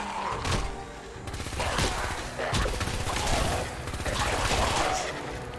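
Fallout 3 style automated turrets firing in the Fallout 4 video game: continuous rapid bursts of gunfire, loud and steady with a few heavier impacts, filling the whole moment.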